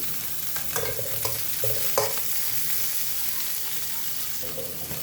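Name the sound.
onion and potato frying in mustard oil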